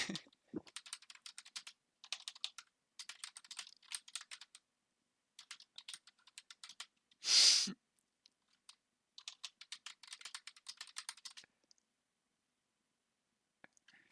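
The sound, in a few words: typing on a computer keyboard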